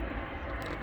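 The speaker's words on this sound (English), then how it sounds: "sorry about the plane going by here" An airplane flies overhead outdoors, a steady broad rumbling roar that fills the whole moment and stays fairly loud.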